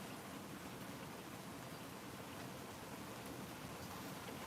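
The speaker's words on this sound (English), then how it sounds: "Let me know if you can hear the rain." Steady rain falling outside in a backyard, a soft, even hiss of drops with no breaks, faint and continuous, with no voices over it.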